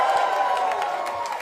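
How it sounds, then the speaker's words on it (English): A crowd at an election night rally cheers and claps in a brief burst, a roar of voices with whoops and applause sounding from a large gathering. "So let's hear a round of applause for New York City DSA!"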